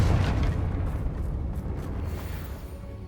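A Confringo blasting spell explosion in Hogwarts Legacy on PC, one heavy, close boom with a deep rumble that slowly fades away.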